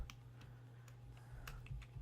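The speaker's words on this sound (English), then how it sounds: "I'm just typing this in real quick." Quick typing on a computer keyboard, a faint scatter of light key clicks over a low steady hum, heard alone and close up.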